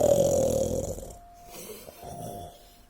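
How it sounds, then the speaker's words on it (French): A cartoon character snores loudly in his bed, giving one long rasping snore that fades, then softer breathy snorts follow. "Naturellement, il ronflait."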